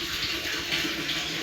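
Tap water running steadily into a container at home, a continuous close splashing flow with no pauses.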